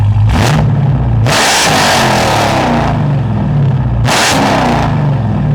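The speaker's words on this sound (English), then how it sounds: "let's go ahead and take a listen to that Corsa exhaust" A 2022 Dodge Challenger Hellcat Redeye Jailbreak revs hard in repeated bursts, its loud Corsa exhaust roaring up and dropping back to a deep idle rumble between pulls.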